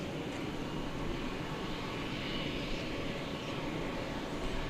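An airplane taking off from runway 18 left at DFW Airport produces a steady, broad jet roar from a distance, constant and moderately faint with no voices.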